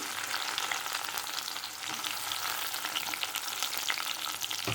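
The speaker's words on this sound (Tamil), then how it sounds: "பச்சை மிளகாய், கருவேப்பிலை எல்லாம் சேர்த்து எல்லாத்தையும் வதக்கிக்கிடுவோம்" Onion and tomato sauté in oil along with cumin, fenugreek, green chillies and curry leaves for Chettinad okra mandi, giving a steady, dense sizzle that stays close and even throughout with no voices.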